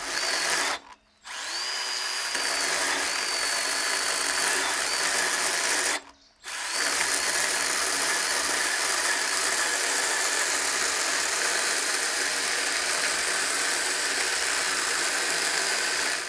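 A Milwaukee M12 FUEL cordless pruning saw (M12 FHS) cuts through a log with a steady, loud chain whine that runs almost without pause, broken by two brief dips near the start.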